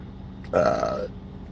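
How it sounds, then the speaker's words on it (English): A loud, drawn-out burp of about half a second stands out sharply over a quiet background, the only prominent sound before it fades. "I know she loves when I cut the nasty burps."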